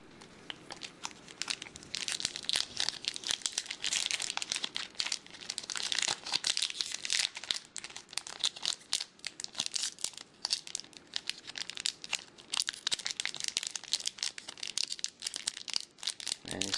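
A Pokemon card booster pack from a Tin of Garchomp C lv. X is torn open by hand, with close, continuous crinkling and crackling of the foil wrapper that rises and falls with each tug.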